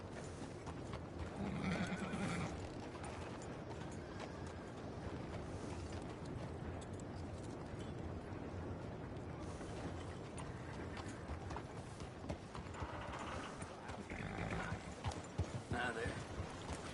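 Horse neighing and clip-clopping hooves in Red Dead Redemption 2, with whinnies rising over a busy town backdrop of mechanical clatter and murmuring game voices.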